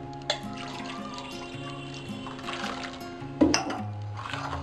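Water poured into a bowl while making Ahmedabadi-style pani puri water, a short splashing pour amid clinks of utensils and kitchen handling sounds, close and fairly loud.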